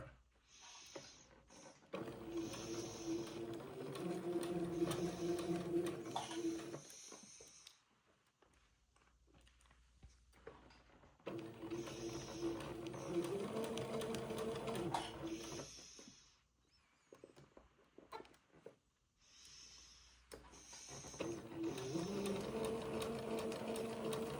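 A sewing machine stitches a dress seam in three separate runs of fast, even mechanical chatter, each lasting several seconds and separated by quiet pauses, close and moderately loud.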